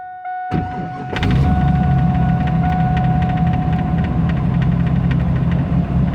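An LS3 V8 fitted with 317 heads and an LS1 cam cranks and fires up, settling into a loud, steady, lumpy idle after a brief electronic chime beforehand.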